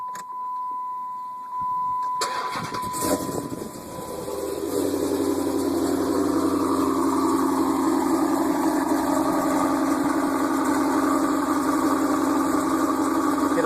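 A Dodge Super Bee engine starts, then settles into a loping idle, a steady uneven rumble heard close up and continuous for most of the stretch, with a brief high whine before startup and no talk.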